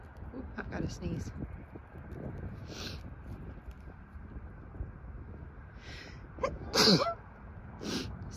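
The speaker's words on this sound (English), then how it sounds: "I've got to sneeze" One sharp, loud sneeze close by, preceded by some quiet breathy talk and faint background rumble.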